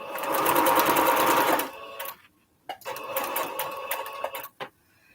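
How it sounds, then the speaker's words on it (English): A sewing machine stitches two quilt strips together for a Triple Irish Chain quilt, a loud steady run of rapid needle strokes, then a pause and another burst of stitching, with a short stop near the end. "so I'm going to sew these two strips together"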